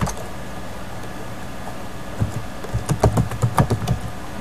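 Someone types an email address on a computer keyboard, a quick burst of close, crisp keystrokes that starts after about two seconds of quiet room tone.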